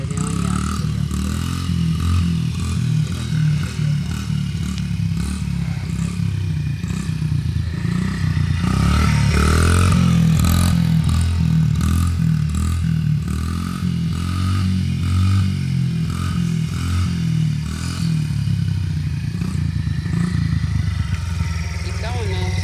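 A small Honda 50 motorcycle engine runs steadily throughout a ride, buzzing loud and near with slight rises in revs, plus some clatter and scraping.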